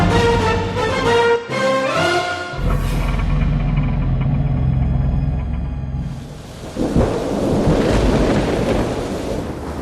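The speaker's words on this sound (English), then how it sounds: "Moscow was trembling from peals of thunder and lightning." Thunderstorm over Moscow: deep rolling peals of thunder building into a sustained roar with rain-like hiss, loud and close throughout, preceded by a brief tonal passage at the start.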